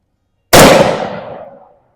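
A Zastava M59/66 SKS rifle fires a single 7.62x39 round at a can on an outdoor range, one loud sharp crack followed by a long fading echo.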